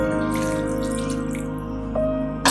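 Cornflour slurry poured into a boiled chicken stew, a steady watery pour over a constant low hum, with a brief splash near the end.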